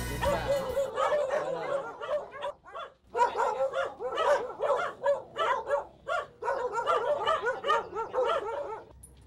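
A dog barks repeatedly at a home in the Philippines, sharp close barks in a steady rhythmic run with whimpering yips mixed in, loud and dominating the scene.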